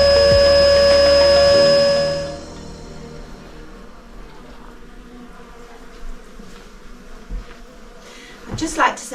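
Honeybees removed from under a house floor buzz in a loud steady drone for about two seconds, then the sound drops to a quiet background with faint rustles and a few knocks.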